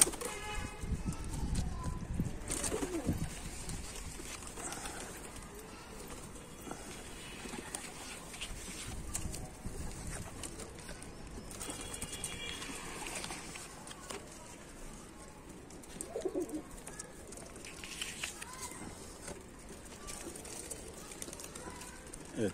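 Pigeons cooing softly in a loft, low repeated coos amid faint background noise and occasional bird movement, fairly quiet throughout.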